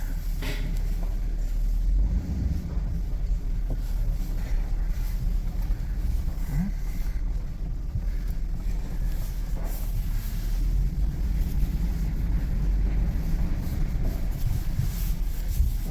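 An old vehicle driving after sitting idle for two years gives a loud, steady low rumble with constant engine drone and road noise throughout, recorded from inside, with no talking.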